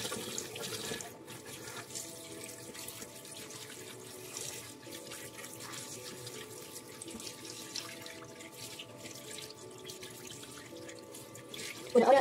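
Warm tap water runs steadily from a faucet into a sink for rinsing the face after applying micellar water and exfoliating gel, a continuous moderate rush with a brief louder splash at the very end.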